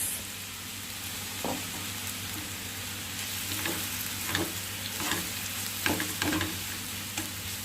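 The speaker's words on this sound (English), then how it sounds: "Now saute it well till it is well cooked and roasted. You have to keep stirring, otherwise it will stick to the bottom." Ground lentil mix with curry leaf and a whole dry red chili sautéing for poha paruppusili, a steady low sizzle with a few spoon scrapes against the pan, moderately quiet, no voices.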